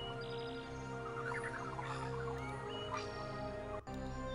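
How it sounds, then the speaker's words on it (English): Water birds in the video game Journeyman Project 2 give a few faint chirping calls over a steady droning game soundscape, ending with a brief click. "Oh great, water birds."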